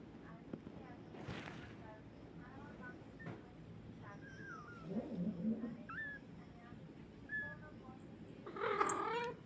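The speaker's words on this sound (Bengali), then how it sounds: "পাগলের মতো হয়ে গেছে মা বিড়ালটা" An agitated mother cat with her kittens lets out several plaintive, rising meows and a strained, wailing cry toward the end. A person talks faintly in the background of the fairly quiet scene.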